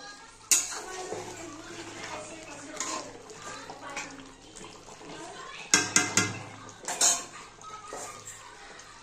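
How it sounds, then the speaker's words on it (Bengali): Potatoes go into a pot of braised mutton cooked down for kosha, landing with a few sharp metallic clanks and scrapes of a utensil against the pot, close by, amid soft kitchen clatter and faint talk. "এবার আমি আলুগুলো দিয়ে দেব।"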